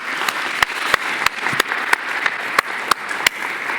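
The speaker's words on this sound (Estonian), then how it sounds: "aplaus esinejatele" An audience at a school birthday ceremony applauds the performers with steady, moderately close clapping throughout, punctuated by several sharp, louder claps at irregular intervals.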